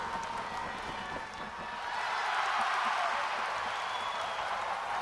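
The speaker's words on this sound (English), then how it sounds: "The crowd erupted in applause, their cheers echoing through the arena." An arena crowd breaks into sustained applause and cheering, a broad wash of clapping that swells slightly midway and stays fairly distant and even.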